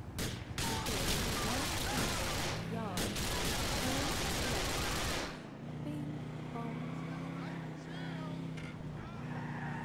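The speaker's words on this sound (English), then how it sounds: "you hear this much automatic gunfire going on" Dense, rapid automatic gunfire in Grand Theft Auto IV: The Ballad of Gay Tony roars loudly for about five seconds, then gives way to a steady engine hum with scattered faint pops.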